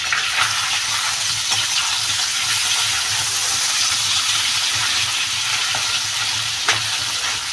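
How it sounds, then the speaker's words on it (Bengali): A katla fish head fries in hot oil with a loud, dense, continuous sizzle and crackle, close up and steady the whole time, a few sharper pops breaking through, no talking. "আমার এই মাথাটা ভাজা হয়ে গেছে আমি এটার ভিতরেই জল ঢেলে দেবো"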